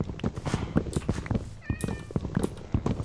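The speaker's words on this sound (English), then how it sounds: "It's a kitty." A cat meows in a blocky survival video game near a villager settlement, several short meows rising over busy game sounds and footsteps.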